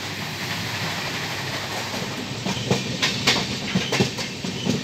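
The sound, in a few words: Mithila Express train running on the rails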